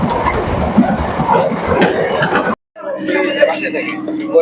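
A Bongaon to Ranaghat local train running, with a loud rumbling rattle and clatter of wheels on track. A brief dropout is followed by a more tonal rolling hum, and voices murmur in the carriage.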